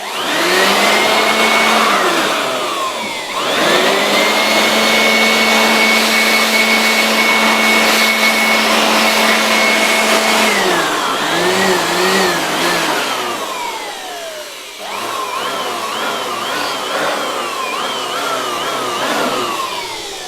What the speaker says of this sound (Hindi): इस प्रिंटर के बैक साइड पे कॉर्नर पे कहीं पे अगर मैं साफ़ करना चाहता हूँ इस ब्लोअर के मदद से, तो वैसे भी मैं कर सकता हूँ।